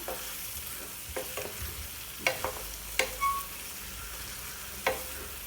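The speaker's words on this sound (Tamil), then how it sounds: "எல்லா பக்கமும் மசாலா மிக்ஸ் ஆகிற அளவுக்கு கிளறி விட்டுடலாம்" Potato pieces coated in pepper masala being stirred in a pan over a low flame, with soft scrapes and scattered light clicks of the spoon over a faint background sizzle, close and quiet with no talking.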